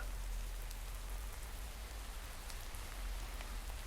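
Rain falls steadily in Minecraft, a dense even hiss of countless drops with a low rumble underneath. It runs alone without any voice.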